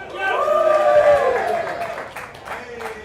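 An audience at a live heads-up poker event cheers and claps, a sustained roar of mixed shouting voices with scattered applause that swells and then fades slightly.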